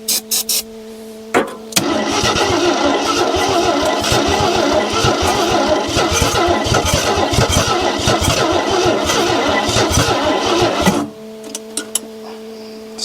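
A 1974 AMC Javelin that sat in trees for over 30 years cranks briefly, then catches and runs roughly for about nine seconds at a steady loud idle before cutting out.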